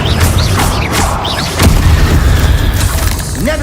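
Spell blasts from Confringo and Bombarda in Hogwarts Legacy, a loud, dense run of booming bursts and crackling impacts with whooshing, rising tones, packed close together for a few seconds.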